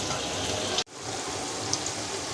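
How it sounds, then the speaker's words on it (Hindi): Onions frying in oil in a pan, a steady soft sizzle and crackle that drops out briefly and then resumes at an even level. "थोड़ा सा प्याज इसी में तेल में अच्छी तरीक़े से फ्राई हो जाती है"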